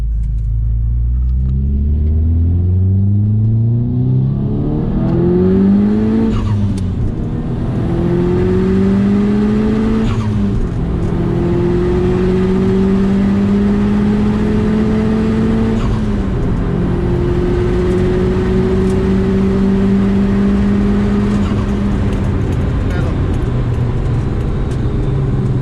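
Tuned Subaru engine accelerating hard through several gears, loud onboard drone climbing in pitch then dropping at each quick shift, repeated about four times, no talk.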